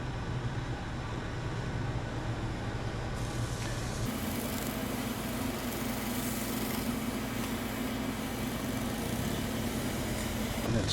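A wood lathe spins a curly-grained wooden bowl while it is polished with a cloth. A steady mechanical hum runs throughout and steps up in pitch partway through as the lathe speeds up.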